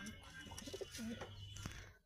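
Soft, low cooing of Madras pigeons, a few short throaty calls, fairly close, with faint rustling in the background.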